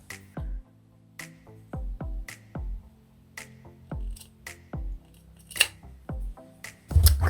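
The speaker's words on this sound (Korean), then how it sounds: "이렇게 막힌 부분은 가위집을 꼭 줘야 돼." Sharp scissors snip notches into the curved seam allowance of a traditional Korean baby jacket, about a dozen crisp, close cuts spaced irregularly with quiet pauses between.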